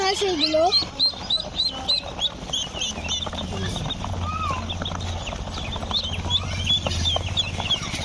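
Ducklings and chicks sold from a van in a village cheep and peep constantly in a dense, shrill chorus, with voices talking and a low rumble underneath.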